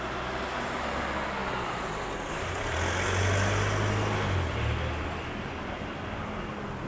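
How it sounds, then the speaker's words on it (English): Big trucks roll past on a Japanese city street in Kagurazaka, with a steady, loud low engine rumble and road noise that builds into a heavier pass midway, heard from the pavement. "These are quite big trucks compared to some of them"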